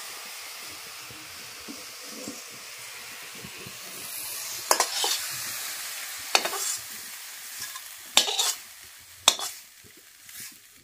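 Coconut fries in a pan with a steady low sizzle, broken by several sharp, loud scraping strokes of a stirring spoon in the second half.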